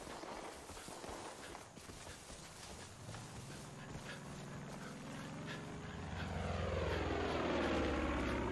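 A propeller airplane flies overhead in the video game Far Cry 5, a steady engine drone that swells louder in the last couple of seconds over a busy layer of game ambience.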